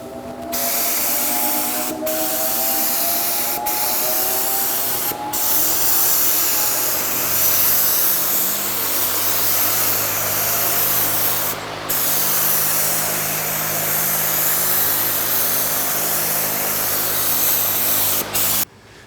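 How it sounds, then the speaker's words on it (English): A fan runs continuously nearby while an engine is painted, giving a broad, steady rushing hiss with a low hum that shifts slightly in pitch, broken by a few sharp clicks. "get some ventilation going here with our fan"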